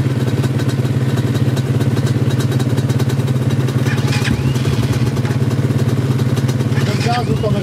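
A cheap used scooter engine idles with a steady, close, chugging putter and light mechanical clatter, while people talk over it.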